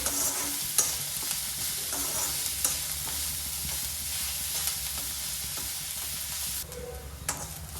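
Onions fry and sizzle in hot oil in a pan as ground spice powder is stirred in, a continuous crackling hiss with scraping stirs, close and steady, no talking.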